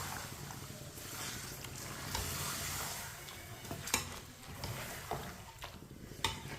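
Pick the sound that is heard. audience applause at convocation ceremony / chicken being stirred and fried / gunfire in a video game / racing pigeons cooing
chicken being stirred and fried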